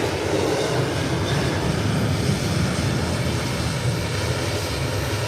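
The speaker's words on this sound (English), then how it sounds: "And here's American Airlines heading into Dallas. Rolling down the runway." An American Airlines jet rolls down the runway on its takeoff run, a steady broad roar of engine and rolling noise that holds at a constant loud level throughout, with no voices.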